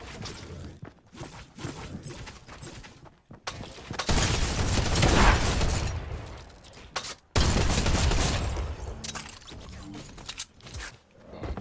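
Video game gunfire crackles in dense, rapid bursts, rising to sustained heavy fusillades in the middle and again later, with mechanical clicks between volleys and no talking.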